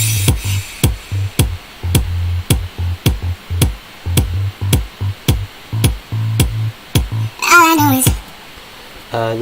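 A steady electronic kick drum from a produced track, shaped by sidechain and EQ, thumps in a regular four-on-the-floor pulse over a low sustained tone, with a short vocal-like sweep near the end.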